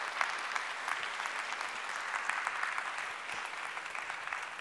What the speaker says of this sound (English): So since you just applauded